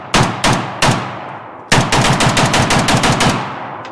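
A Bulgarian SAM7SFC AK-pattern carbine fed from a surplus steel magazine fires outdoors, three loud separate shots, a short pause, then a fast string of about a dozen sharp close rounds.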